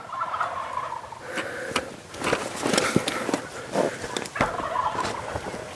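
Several wild turkeys in a flock gobble in loud, repeated bursts during a spring turkey hunt, with brief rustling and footsteps between calls.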